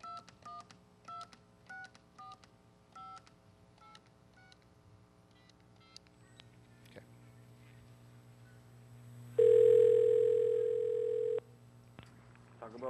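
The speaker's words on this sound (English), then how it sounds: "I have a dial tone." A series of telephone keypad tones beeps in quick succession, then a steady dial tone hums for about two seconds before cutting off.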